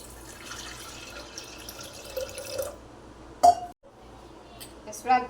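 Water is poured into a pressure cooker holding soaked dal for Gujarati dal pakvan. A soft, quiet trickle is followed by a few sharp metallic clinks and drips in a hushed kitchen.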